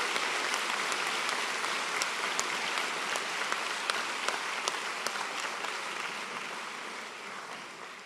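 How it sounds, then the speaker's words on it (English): Sustained applause from a graduation ceremony audience honouring postgraduate graduates, dense clapping from a large crowd that holds steady and slowly fades toward the end. "Let's have a big round of applause for all our graduates on our top postgraduate programmes."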